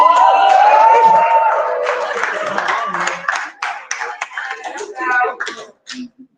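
An audience at a children's book launch claps along, a patchy mix of hand claps and voices that starts loud and thins into scattered individual claps and chatter.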